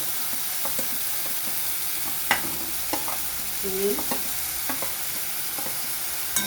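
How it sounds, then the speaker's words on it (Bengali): Onion, garlic and ginger paste with ground coriander and cumin fries in a pan, a low steady sizzle broken by sharp scraping strokes of a spatula stirring at irregular intervals. "এবার আমি ভালো করে মশলাটাকে কষিয়ে নেবো যাতে কাঁচা গন্ধটা না থাকে"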